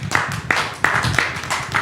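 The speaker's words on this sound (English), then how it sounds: "A round of applause for him too." Audience applause at a World Environment Day event on plastic pollution, a short burst of brisk clapping from a small group, with rhythmic individual claps standing out and a voice faintly beneath.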